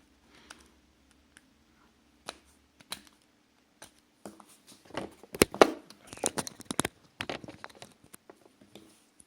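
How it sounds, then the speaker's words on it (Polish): Plastic housing is pried off a Sony Ericsson W995 mobile phone by hand, producing close, scattered clicks, snaps and crackling creaks that build into a dense burst midway and then thin out. "Kolejnym krokiem będzie ściąganie obudowy."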